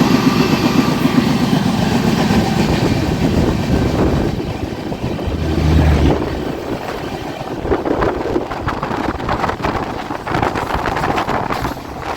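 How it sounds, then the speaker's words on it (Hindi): Loud, continuous rumble and clatter of the Purushottam Express on the Patna to Delhi line as another train runs alongside and overtakes it, wind buffeting the microphone throughout, with no talking. "किसी ट्रेन को तो अभी अपनी ट्रेन ओवरटेक कर रही है"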